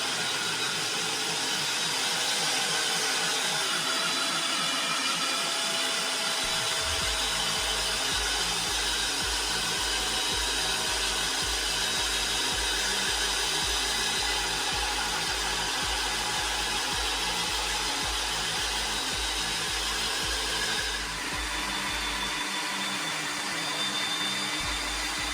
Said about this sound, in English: drill a hole through the side of it